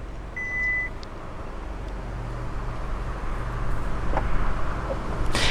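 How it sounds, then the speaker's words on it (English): A short warning beep comes from the power tailgate of a 2019/2020 Hyundai Santa Fe SUV, followed by a low, steady motor hum that grows slightly louder as the tailgate lowers shut. "let's close up the tailgate right here by just pressing this and see if the trunk can actually close"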